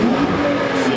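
A Porsche 902 GT3 drives off at a car meet, its engine note a loud, close rising drone for about a second.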